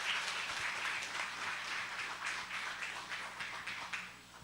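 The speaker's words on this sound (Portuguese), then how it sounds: "Vamos aplaudir o Senhor em nome de Jesus." A church congregation applauds during a live Sunday celebration service, a steady, dense wash of many hands clapping that holds even throughout and tapers slightly at the end, with no talking.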